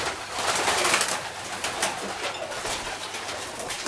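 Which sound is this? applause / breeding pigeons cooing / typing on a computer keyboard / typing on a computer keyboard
breeding pigeons cooing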